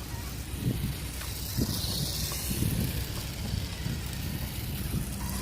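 A mecanum-wheel RC truck with four motors drives outdoors and crabs sideways, its motors giving a low, uneven whirr and grinding rumble that holds at a moderate level throughout.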